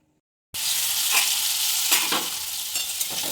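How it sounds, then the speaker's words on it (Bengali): After a brief silence, potatoes hit hot oil in a wok and sizzle loudly and steadily, with a few stirring scrapes breaking through the frying. "আমি কড়াইতে একটু তেল নিয়ে নিয়েছি আমি আলুটা ভালো করে ভেজে নেব"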